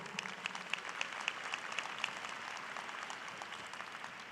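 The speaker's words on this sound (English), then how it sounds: "Why don't we give them a big round of applause" A commencement ceremony audience claps in fairly faint, distant applause, with a few sharper individual claps standing out early in the sustained wash.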